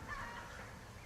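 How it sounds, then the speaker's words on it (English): Chickens squawking behind a farm coop, a brief faint burst of clucking calls heard from a distance, alone without talk. "The chickens are squawking."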